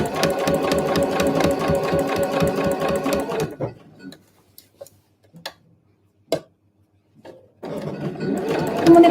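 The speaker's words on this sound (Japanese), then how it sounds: "ここもね、返し縫いしないでそのまままっすぐ縫っていきますよ。" A sewing machine runs fast with a dense rhythmic stitching clatter while sewing a convenience-store eco bag, stops for a few seconds of small clicks and handling noises, then starts stitching again.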